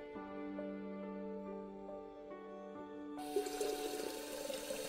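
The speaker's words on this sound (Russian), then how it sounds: "Воды-то мы налили." Water is poured in the game Lost Words: Beyond the Page to make tea, a splashing liquid rush that cuts in partway through over a sustained, gentle musical background.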